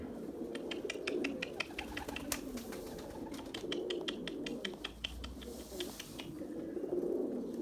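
Domestic pigeons, including a smoky-grey hen, coo in low, throaty rolling calls, close and repeated, with sharp chirps and clicks scattered over the cooing and some wing or cage rustle.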